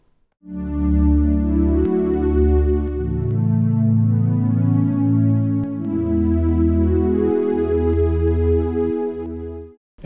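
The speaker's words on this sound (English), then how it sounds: "The new string sound." A synthesized string ensemble from the Audanika app swells in and sustains rich, continuous chords that shift smoothly through several changes for about nine seconds, loud and unbroken before cutting off.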